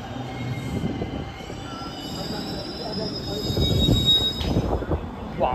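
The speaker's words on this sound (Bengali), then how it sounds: "তো এ হচ্ছে দিল্লির মেট্রো।" A Delhi Metro train runs close by, with a sustained high wheel squeal and a low rumble that swells toward the end, and faint voices in the background.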